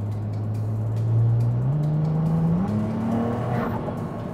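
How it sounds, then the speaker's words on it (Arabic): Ferrari 296 GTS Assetto Fiorano engine accelerating from inside the cabin, its note climbing in steps through upshifts, loud and close and alone with no speech. "ما في اي شيء بزقزق، بس تسمع صوت الانجن"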